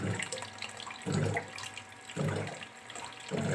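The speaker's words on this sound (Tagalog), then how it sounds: "Yan, lagyan na natin ng tubig yan." Tap water runs into a container while calamansi juice with malunggay and carrots is being prepared, a steady close splashing flow that swells and eases in repeated waves, with no talking.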